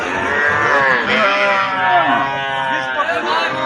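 Cattle at the Aftabganj cow and calf market in Nawabganj, Dinajpur, let out a long, loud, close moo that rises and falls, with people's voices mixed in around it.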